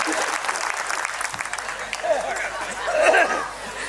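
Audience applause at a poetry recital in Chhattisgarh, a crowd clapping steadily, mixed with murmuring and scattered voices, swelling slightly louder toward the end.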